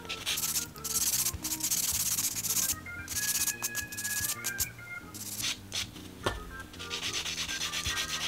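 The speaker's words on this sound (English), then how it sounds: "take my buffer and finish buffing out the rest" A nail buffer rubbing over fake tape nails: steady back-and-forth scrubbing strokes in quick rhythmic bursts, close and fairly loud, with faint music underneath.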